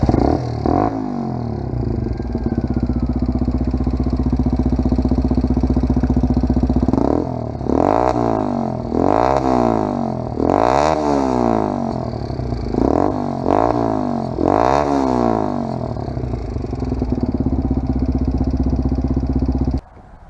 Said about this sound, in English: I'll do a start up for you. You can hear her while I rev it.